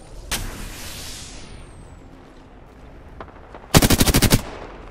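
Gunfire aimed at the player during a video game squad match: a sharp single shot early, a fading whoosh, then a rapid close burst of about eight loud automatic rounds near the end.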